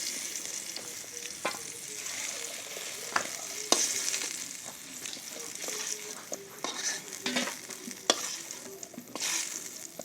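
Raw banana pieces frying in a pan give a steady loud sizzle, with clinks and scrapes of stirring breaking through at intervals.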